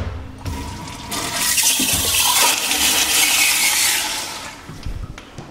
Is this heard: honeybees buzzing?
no